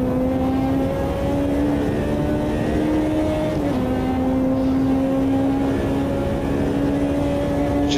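Race car engine in the Automobilista 2 racing game, a steady loud drone holding pitch with a brief dip around mid-clip as it shifts up a gear, then carrying on.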